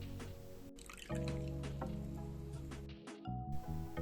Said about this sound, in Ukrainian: в яку вилийте 300 мл молока. Молоко повинно бути кімнатної температури